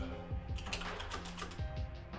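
Quick typing on a computer keyboard: a close run of crisp, irregular key clicks and taps, moderately faint, heard alone without talk.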